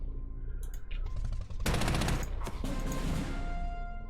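Artillery fire in the wartime strategy game Panzer Corps booms loudly in a cluster of sharp, heavy blasts followed by a rumbling, crackling barrage of impacts.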